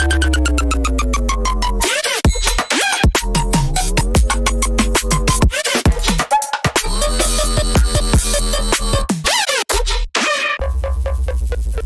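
Low, pitched-down wavetable bass synth patch, loud and dense with gritty, shifting growls cut by brief rhythmic gaps in a dubstep-style section, alone with no talking.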